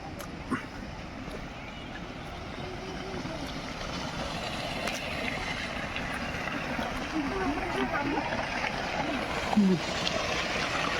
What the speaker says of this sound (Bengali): এই একটি ধারা পড়ছে সেভেন সিস্টারে।